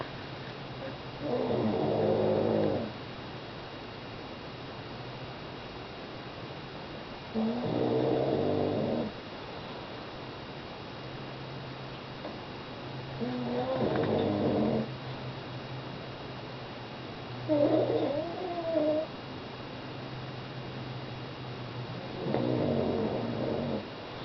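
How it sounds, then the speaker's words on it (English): A blind, nearly ten-year-old pug dog snores slowly and evenly, five drawn-out, raspy snores spaced about five seconds apart, close by and fairly soft over faint background hiss. "blind, nearly 10-year-old pug dog, snoring away, content as can be"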